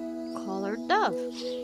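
A collared dove in Alba: A Wildlife Adventure gives a few short hooting calls over a steady tonal background hum, close and fairly clear.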